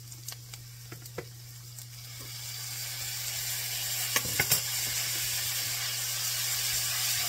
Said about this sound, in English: we're going to put in 1 tablespoon of minced garlic.